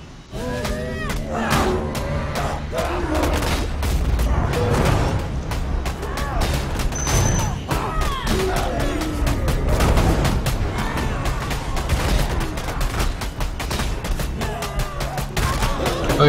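Grenade blasts strike a character in Path of Exile, coming as a rapid, dense barrage of sharp bursts and booms that runs steadily throughout, with a voice faintly present beneath.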